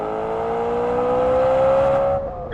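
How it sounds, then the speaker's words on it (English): A BMW M3's 4-liter V8 sings close and loud, its pitch climbing smoothly before the revs drop away sharply near the end. "the noise from the lusty 4-liter V8 makes up all that difference"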